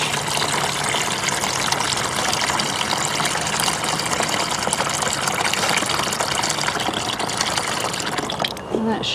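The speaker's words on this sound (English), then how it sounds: "I'm going to try to carefully pour a bunch of this water in so these can be soaking up some" Water is poured onto potted seedlings during transplanting, a steady broadband splashing and trickling that runs continuously and fairly loud throughout, ending abruptly near the close.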